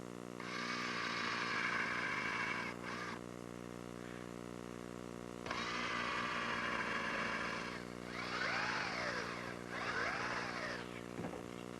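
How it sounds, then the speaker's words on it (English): A power drill pre-drills holes for brass screws while building an outdoor garden table, whirring in several short bursts separated by pauses, quiet and fairly distant. "I'm going to pre-drill for some more brass screws"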